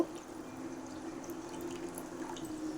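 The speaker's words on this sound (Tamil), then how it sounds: "அரிசியில் இருக்க தண்ணியெல்லாம் வடிச்சிட்டு" Water drains from soaked rice being readied for chicken biryani, a faint, quiet trickle with light drips over a few seconds.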